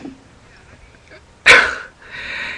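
Spencer, a roughly fifty-pound dog, gives one sharp, loud bark or sneeze-like burst amid a quiet room, followed by faint vocal noise.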